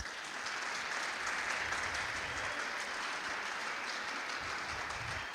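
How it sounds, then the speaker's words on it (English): Spectators at the PSA BDO Namibian Open 2025 squash final give a steady round of applause, a dense, even patter of many hands from start to finish. "And now we give a round of applause to all the spectators present."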